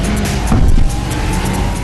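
Cars racing in Gran Turismo 5 on PlayStation 3, a steady engine roar with a brief louder surge near the middle, continuous and fairly close with no talking.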